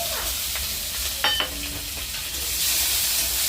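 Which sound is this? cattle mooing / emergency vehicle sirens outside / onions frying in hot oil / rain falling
onions frying in hot oil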